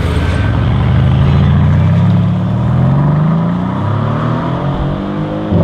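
A Mercedes C63 AMG passes close by with a loud, throaty engine roar that swells and climbs in pitch as it accelerates, then fades slightly toward the end, with no talking.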